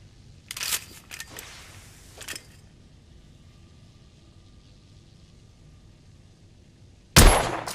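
A rifle with a telescopic sight in The Order: 1886 fires a single sharp, loud crack near the end, preceded by a few metallic clanks and handling sounds over quiet ambience, with no talking.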